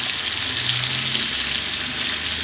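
Spices for a chicken curry temper in hot oil, giving a close, steady frying hiss with light bubbling and no talk.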